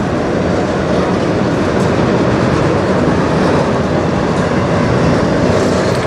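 A CN freight train rolls past on the Strathroy Subdivision, its steady, loud rumble of wagons and wheels filling every moment with a continuous clatter and no gaps.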